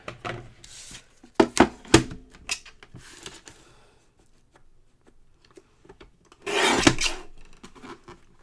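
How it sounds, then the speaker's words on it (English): A paper trimmer cuts card paper with a series of close scraping, rasping strokes and clicks, followed by a longer, louder slicing pass near the end, with no talk. "I'm going to trim it just so it leaves a little bit of white border."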